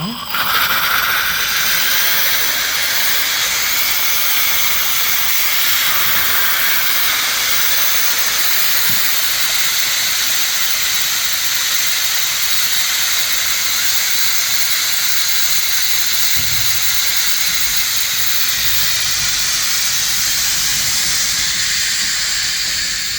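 Steam hisses loudly and continuously from a food steamer's pipe, a broad airy rush that holds steady throughout with faint clanks underneath.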